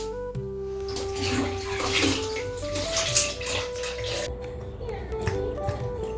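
Water runs steadily while something is washed, a continuous hiss that stays close and fairly loud throughout, with tonal background sounds layered over it.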